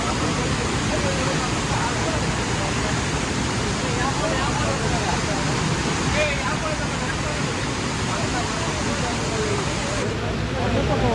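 The forceful Hogenakkal main waterfall produces a constant, broad rushing roar of water that stays loud and even throughout, with faint voices mixed in beneath it.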